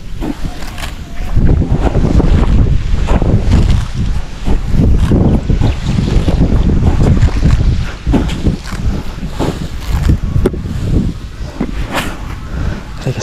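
Strong typhoon wind buffets the microphone in loud, continuous gusts with rumbling low-end roar throughout.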